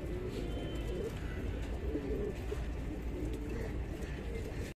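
Lal Ambarsare high-flyer pigeons in Andheri West, Mumbai coo in soft, repeated low calls over a constant background rumble, with several birds heard close by.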